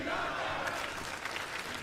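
Wrestling arena crowd in Las Vegas at TNA Hard To Kill 2024, a loud, dense roar of cheering and clapping throughout.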